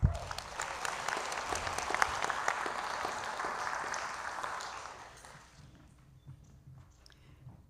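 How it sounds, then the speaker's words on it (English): Applause from a crowd at an adult education high school equivalency graduation ceremony, a dense burst of clapping that holds steady and then thins out and fades over the last few seconds. "how about we give them a round of applause?"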